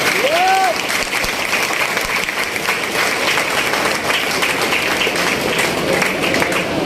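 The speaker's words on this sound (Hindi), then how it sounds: "एक बार जोरदार तालियां बजा सकते हैं।" Loud, dense applause from a large seminar audience fills the whole stretch, steady and close, with rain falling in the background and a brief whistle-like tone near the start.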